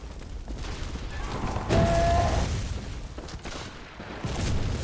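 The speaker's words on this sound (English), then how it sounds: "They've even got a cannon out here." A cannon booms in the video game Bloodborne, a loud blast that rolls out amid other game noise, followed by further heavy thuds and rumble.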